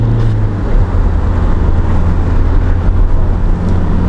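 A warmed-up Volkswagen Crafter van engine idles with a steady low drone and hum from inside the cabin, loud and constant throughout.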